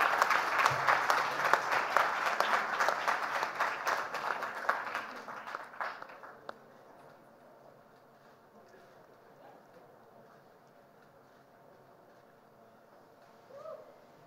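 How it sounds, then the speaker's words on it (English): Audience applause for a teen award winner at a gala fills the first six seconds, loud and dense, then cuts off abruptly, leaving a quiet room with faint background murmur and a brief voice near the end. "Let's have a round of applause for our winner of Wai Wai Glocal Teen Hero 2022."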